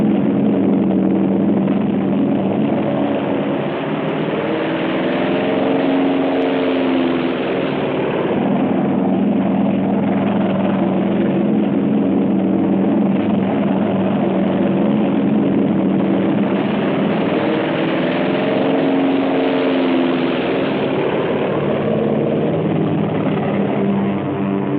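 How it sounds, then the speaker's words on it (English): American WWII carrier planes taking off in the Pacific in 1944, a loud continuous propeller-engine drone that swells and fades as aircraft pass, heard on an old, band-limited recording. "In the pre-dawn, the American carrier planes take off."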